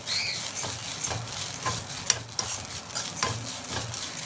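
Coconut filling for sweet coconut boli, with optional cardamom powder, is stirred in a pan, giving a steady run of soft scrapes and light clinks against the metal with a faint sizzle underneath.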